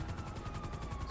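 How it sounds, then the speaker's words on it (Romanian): A helicopter in GTA 5 roleplay flies overhead with a fast, even rotor pulse, loud and close throughout a brief moment with no talk. "Mamă, ce m-am speriat de elicopterul ăsta. Ce survolează el pe aici ușor."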